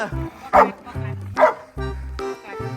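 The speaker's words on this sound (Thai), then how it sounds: "ทำเป็นได้แค่เห่าในกรง" A caged dog barks in several sharp, loud yips spaced about a second apart, close by, with faint low tones in between.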